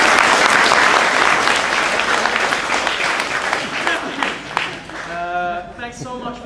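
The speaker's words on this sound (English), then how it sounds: "Big applause." An audience at a jiu-jitsu camp in Iceland applauds loudly, a thick wash of clapping that slowly thins out and fades toward the end as a voice begins speaking.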